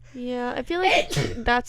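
A single sneeze bursts out in the middle of a casual conversation between friends at a sleepover party, with talking just before and after it.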